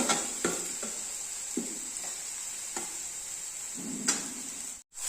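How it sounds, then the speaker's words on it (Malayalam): Chopped ripe plantain sautéing in ghee in a pan, a steady soft sizzle broken by several scraping stirs of a spoon, close and moderately quiet, ending in a brief dropout with no talking. "അത് നമുക്ക് ഈ ഒരു നെയ്ക്കകത്തൊന്ന് വഴറ്റിയെടുക്കാം"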